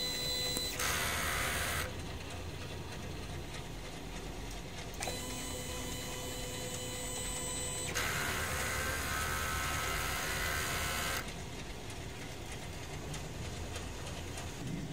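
A DTF printer runs a print head cleaning cycle, humming and whirring steadily up close with several shifts in pitch and intensity as the pump and carriage move, faint and without talk.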